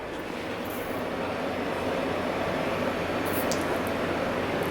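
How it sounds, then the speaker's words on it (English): A steady, loud whirring roar of a blender motor on its smoothie setting running continuously, dense broadband noise with no pauses. "I put my blender on smoothie."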